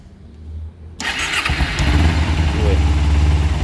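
A 2011 Kawasaki Ninja 250R with a carbureted engine fires up after a second of quiet, catching at once into a loud, rough idle with uneven revs, close by, while people talk nearby.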